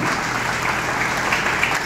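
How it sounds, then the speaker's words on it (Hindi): Steady, dense applause from an audience honouring a pandit guest at a religious gathering, loud and continuous for the whole short stretch. "आपकी तालियां बिल्कुल नहीं रुकनी चाहिए"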